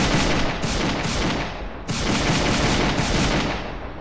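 Rapid automatic gunfire from a rifle in a first-person shooter game, loud and continuous bursts with a brief pause midway, no talking over it.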